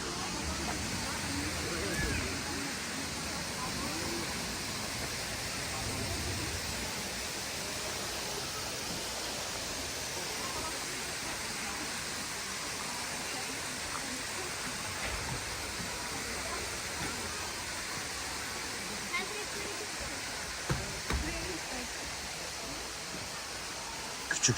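A waterfall in Antalya gives off a steady, dense rushing roar that continues throughout, with faint voices beneath it.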